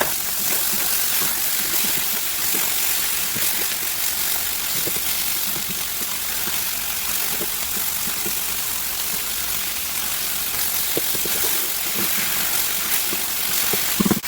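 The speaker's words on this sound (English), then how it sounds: "I'm just going to get them sauteed a little bit more before we add in the liquid." Garlic shrimp and scallops for Spanish tapas sautéing in a pan, a dense, loud, unbroken sizzling hiss close up with no talking.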